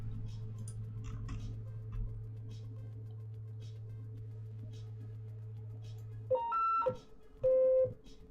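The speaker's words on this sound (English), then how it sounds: "it's giving us clicking now" Procedural audio built in Unity, set to 60 BPM: a low steady hum gives way to a few short bright beeping clicks near the end, sounding clearly on the beat.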